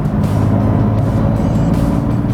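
A BMW F80 M3 fitted with Pure Turbos accelerates at half throttle from about 45 mph on a back farm road, giving a steady, loud in-cabin drone of engine and road rumble with no break.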